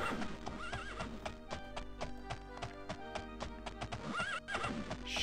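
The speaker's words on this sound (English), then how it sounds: "Shut up, horse." Horse in the video game Daggerfall neighing with a rising whinny twice, while hooves clop steadily in a regular rhythm over a busy game soundtrack.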